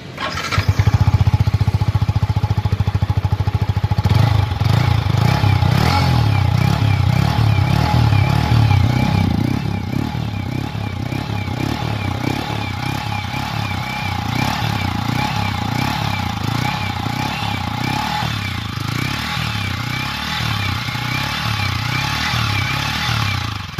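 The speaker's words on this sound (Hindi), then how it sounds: "आइए सुनते हैं इसका एग्जॉस्ट नोट।" A Yamaha R15 V3 BS6 motorcycle idles and is revved through its sporty exhaust, a loud throaty burst early on that settles into a steady, slightly pulsing idle close by.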